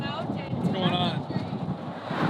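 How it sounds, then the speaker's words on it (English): Strong wind gusts buffet the microphone outdoors in Mozambique, a steady broadband roar rising and falling throughout, with people talking loudly over it. "It's windy back here."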